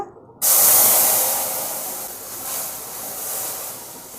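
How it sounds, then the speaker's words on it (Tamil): Milk poured into a hot kadai while making makhana (lotus seed) payasam erupts in a sudden loud, broad sizzle that stays strong and steady, then eases slightly as it settles; no talking. "நான் 1 டம்ளர் பால் வந்து ஊற்றிக்கிறேன் அதே கடாயில்"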